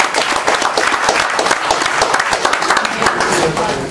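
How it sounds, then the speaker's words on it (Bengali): Audience applause for a speaker at a company marketing event: a dense, steady wash of many hands clapping, close and full throughout with no break. "ওনার জন্য জোরদার একটি করতালি আশা করছি।"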